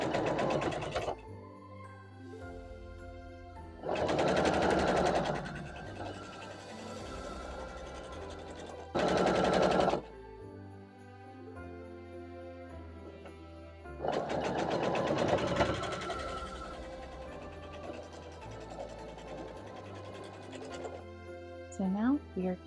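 A sewing machine stitches quilt block pieces for a Moroccan star quilt block in bursts of fast, even whirring. Each run lasts a few seconds, with quiet gaps between them and a voice talking over the quieter stretches.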